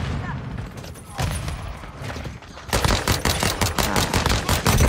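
A handgun fires rapidly in Call of Duty: Modern Warfare II on the Holiday Shipment map, sharp repeated shots growing denser and louder in the second half amid other gunfire.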